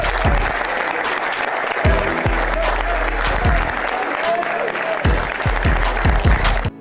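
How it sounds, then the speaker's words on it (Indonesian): Applause as footballer Erling Haaland takes a seat beside Martin Odegaard, a steady roar of clapping that fills the room, with a few louder bursts and faint voices underneath. "Erling Haaland duduk di sebelah Martin Odegaard dan tepuk tangan pun bergemuruh untuknya"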